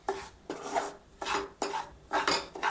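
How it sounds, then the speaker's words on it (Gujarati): Semolina being stirred and roasted in ghee in a pan, a spoon scraping in rhythmic strokes roughly every half second, each rasping sweep rising and falling, close and clear with no talk. "હવે આપણે રવાને આ રીતે હલાવતા રહી અને શેકી લઈએ."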